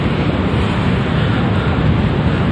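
Surf rolls onto Pandawa Beach in Bali as a loud, continuous roar of waves mixed with strong wind buffeting, with no voices.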